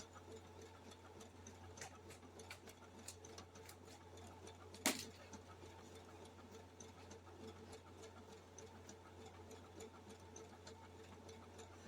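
A home sewing machine stitches applique fabric with a steady, quiet, rapid ticking hum, one sharper click near the middle.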